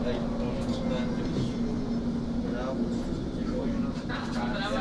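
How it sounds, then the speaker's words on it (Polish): A Polish tram rumbles along with a steady drone inside the car, and voices murmur faintly over the continuous ride noise. "W polskim tramwaju."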